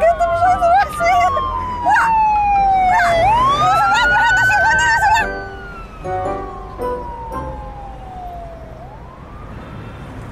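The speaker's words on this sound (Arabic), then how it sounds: "ده كان اسعاف؟" A loud wailing ambulance siren sweeps up and down in pitch, close by and dominating the clip, then slowly fades as it passes.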